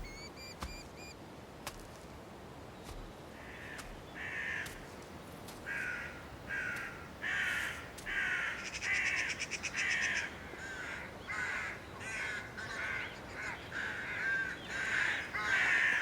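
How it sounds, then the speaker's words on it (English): Crows in a snowy winter landscape caw repeatedly, harsh calls coming in irregular bursts at moderate distance over a quiet outdoor background. "The omnipresent crows don't seem particularly worried by snow and cold."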